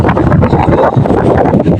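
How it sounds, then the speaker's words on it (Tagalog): Strong, gusting wind after Typhoon Uwan on a seaside stretch, roaring loudly and buffeting the microphone in constant, rough bursts with no voices heard. "Tsaka medyo malakas pa po yung hangin."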